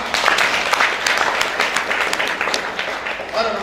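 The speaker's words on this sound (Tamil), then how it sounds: "கைத்தட்டலாமா?" Audience applause at a DMK party functionaries' consultation meeting held on the leader's birthday: dense, steady clapping from a crowd, sustained for several seconds at close range, fading slightly near the end.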